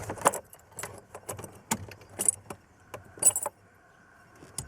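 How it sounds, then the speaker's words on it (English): A car key is turned off in the ignition of a Lotus Excel, followed by faint, brief metallic jingles of a key bunch in several short bursts, with no talk. "Let's turn the ignition off."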